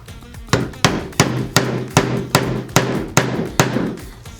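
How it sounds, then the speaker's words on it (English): A hammer strikes while a 4x2 V3 Deluxe spacer hood is assembled: nine sharp, evenly spaced blows, close and loud, each with a brief ringing tail. "using our hammer to start,"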